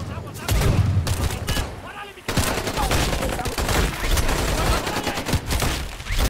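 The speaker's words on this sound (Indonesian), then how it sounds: "dan baku tembak kembali terjadi." Gunfire exchange in an action film: dense bursts of automatic fire and sharp shots, loud and continuous, with a brief drop in the middle before the barrage resumes, layered with film soundtrack.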